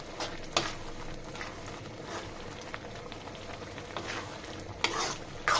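Taro leaves cooked with shrimp, frying in a pan and being stirred, giving a steady crackling sizzle with a few sharper scrapes of the spoon; close and moderately loud, with no voices.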